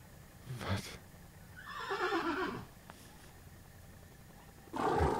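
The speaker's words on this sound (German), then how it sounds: "Wer kommt denn da zu Pferd?" A horse in a video game neighs in a drawn-out whinny, with short thumps before it and another burst of sound after, fairly quiet against a faint background.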